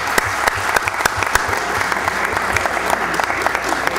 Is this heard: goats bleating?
no